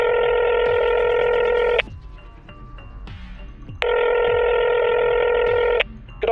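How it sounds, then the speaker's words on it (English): Telephone dialing tones sound twice: each is a loud, steady electronic tone held for about two seconds, with a quieter gap of line noise and faint clicks between them. "HMCL is placed on hold. The Temporality Annex is dialed."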